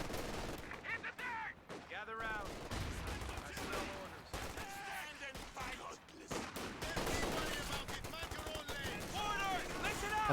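Pack howitzer fire in a Company of Heroes 2 battle, with artillery and small-arms bursts cracking repeatedly through dense gunfire and explosions, under continuous talk.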